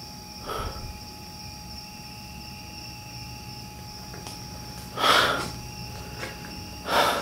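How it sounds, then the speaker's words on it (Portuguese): Crickets chirp at night around a barn, a steady high-pitched trill running throughout, with a few louder breathy bursts breaking in near the end. "Cara, dá pra escutar só os grilos."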